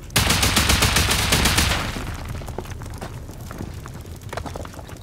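Explosive ammo hitting stone and armored base walls in a survival raiding game: a loud, rapid burst of blasts and gunfire for about two seconds, then scattered lighter shots and debris sounds trailing off.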